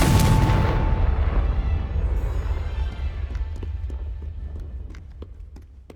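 A Confringo blasting spell goes off in Hogwarts Legacy as a loud, deep boom that rumbles and slowly fades over several seconds, with faint crackling debris afterward.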